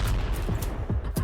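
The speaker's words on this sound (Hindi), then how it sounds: "फिर होता है जबरदस्त धमाका" A drone strike explodes among soldiers on a Russia-Ukraine war front. Loud, harsh blast noise fills the whole moment, with several sharp cracking bursts in quick succession.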